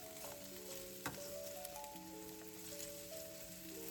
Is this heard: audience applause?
no